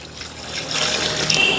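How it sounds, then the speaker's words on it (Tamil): Water poured into a pot of Dindigul-style chicken biryani made with seeraga samba rice, a steady close splashing trickle that builds slightly, with no talk over it. "இப்போ இந்த தண்ணி இதிலே ஊற்றிடலாம்."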